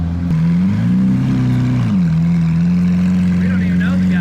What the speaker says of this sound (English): I hear a supercar.